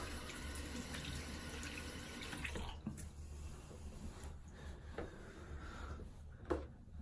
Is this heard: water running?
yes